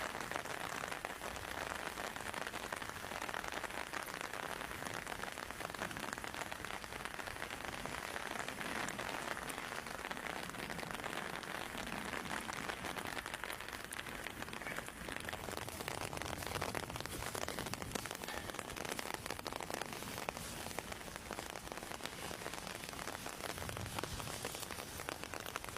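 Steady rain falls in a cemetery, a dense, constant hiss of drops striking surfaces that continues without pause, fairly soft and even throughout.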